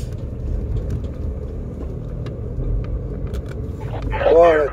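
A Volvo livestock truck drives in the Call of Duty Mobile battle royale mode, a low steady engine rumble and road drone that swells near the end as a voice comes in.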